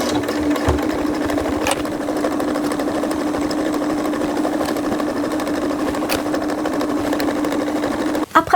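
A sewing machine runs steadily, stitching a 1 cm seam along the sides of a dog cushion cover, a continuous close whirring hum that stops abruptly near the end.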